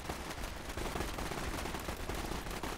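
Dense, rapid gunfire from many shooters in a Fallout: New Vegas battle, a continuous crackling barrage of overlapping shots, fairly quiet and unbroken.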